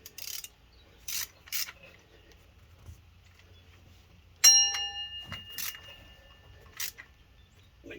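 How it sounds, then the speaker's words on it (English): Hand ratchet clicking in short bursts while tightening water pump bolts on a 2004 Dodge Ram 1500, faint quick ratcheting with pauses between strokes in a quiet garage, no talking. "I'm going to go over them with the ratchet real quick."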